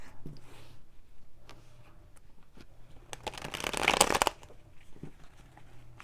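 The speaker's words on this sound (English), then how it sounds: "Spirit, let's do one more shuffle, then we'll cut the cards and see what we have." Tarot cards are shuffled in a quiet room: soft scattered riffles and taps, then a dense papery burst of shuffling near the middle, close and fairly faint, with no talking.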